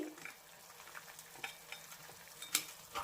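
Spinach and gram-flour balls being stirred into a simmering gravy, with soft scraping and light bubbling, a few sharper clinks of a spoon against the pan, no talking.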